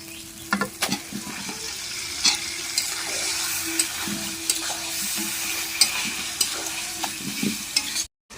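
Marinated goat meat frying in spiced oil for a red curry, with a steady close sizzle under repeated scraping stirs and spoon knocks, then a brief cut to silence at the end.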